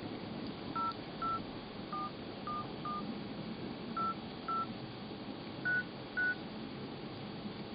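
DTMF keypad tones from an LG Optimus GT540 phone while a number is dialed: about ten short, clean beeps in an uneven rhythm over a faint steady hiss, with no voices.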